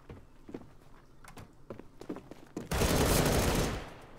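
A shotgun blast in the video game Phantom comes as one loud, heavy burst that rings out for about a second, after a run of soft footsteps and small knocks.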